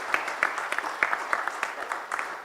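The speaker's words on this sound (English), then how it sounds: "a big round of applause for Sanjeev Bikhchandani, please." A small audience at a startup corporate governance conclave gives a brief round of applause, sparse and distinct claps patting out in a loose rhythm at moderate volume.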